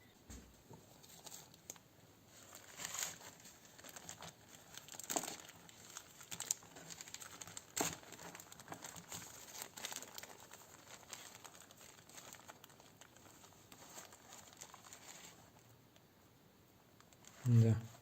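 Small plastic bags rustle and crinkle up close as rooted fig cuttings are taken out of them. The soft, faint, intermittent rustling ends in a louder crackle.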